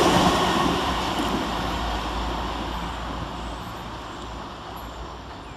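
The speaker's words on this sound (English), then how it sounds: "Passing fast through the station will be 444037 and 444011, working one Whiskey 17 for South Western Railway from London Waterloo to Weymouth." South Western Railway class 444 multiple units passing fast through Christchurch station, a loud continuous rushing roar that fades gradually as the train moves away.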